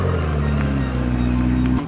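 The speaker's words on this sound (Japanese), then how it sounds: "お、なんか新しいのも来たね。 マクラーレン650" A McLaren 650S coupe drives close by, its engine a loud, steady droning growl with strong tonal harmonics that hold for nearly two seconds before easing off.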